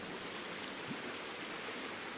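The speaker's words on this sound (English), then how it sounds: "a pleasant silence, interrupted only by the waves, calms his mind" Sea waves in the video game Hell Hunter: a soft, continuous wash of water noise, faint and even, like gentle surf heard from nearby with no distinct breaks and no speech.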